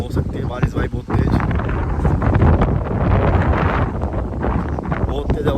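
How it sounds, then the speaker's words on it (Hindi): Strong wind gusting outdoors in a village, roaring and buffeting the microphone loudly and continuously, with a voice talking intermittently underneath. "हवा आ गई भाई, बहुत तेज़ हवा।"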